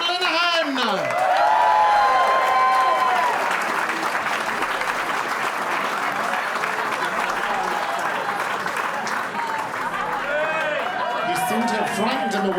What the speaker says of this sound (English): A huge round of applause, Mr. Graham Linehan!